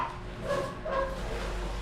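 Dogs bark a couple of times, faint and somewhat distant, over a low steady background hum.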